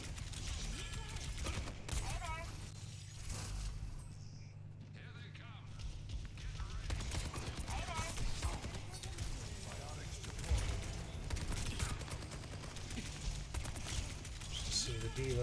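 Rapid gunfire and blasts from a Soldier: 76 match on the Antarctic Peninsula map of a shooter game, in dense bursts throughout and partly masked by someone talking over the action.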